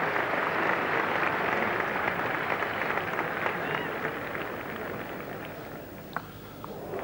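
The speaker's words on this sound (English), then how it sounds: "that's brought an immense cheer from this crowd." A large cricket crowd at Lord's roars and cheers during an England v New Zealand Test match, a broad sustained swell with scattered claps that slowly fades, and a commentator talks over it.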